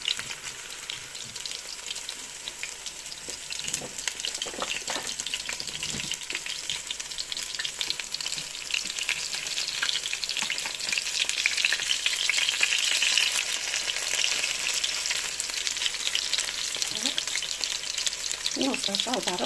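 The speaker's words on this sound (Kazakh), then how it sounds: "Котлетіміз пісіп жатыр." Liver cutlets fry in a pan over medium heat, a steady broadband sizzle that holds throughout and grows slightly louder, with a few soft clicks of handling and no talk.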